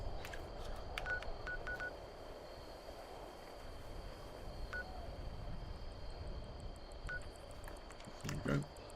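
Keypad tones from a phone being fixed sound as short, isolated beeps at irregular intervals over a faint, constant background hiss, with a brief louder knock near the end.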